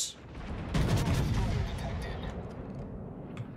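Battleship main guns firing shells in World of Warships, a heavy boom that hits sharply then rolls into a long fading rumble with a few faint crackles afterward.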